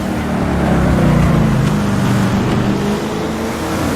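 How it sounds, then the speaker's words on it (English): V8 engine of a race car lapping Mont-Tremblant in Assetto Corsa, a loud, continuous low growl with rising and falling revs as the car accelerates, alone without talk. "V8 engine behind, purrs to life"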